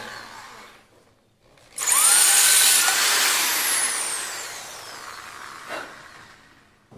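A power drill fitted with a new 8 mm concrete bit whirs up loudly for several seconds after a short pause, then winds down gradually, close and alone without talk.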